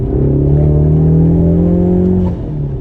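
A turbocharged Ford Mustang 2.3L EcoBoost engine with a Ford Racing exhaust revs hard and steady in sport mode with a deep droning tone and a whooshing intake note, loud and close, easing off near the end.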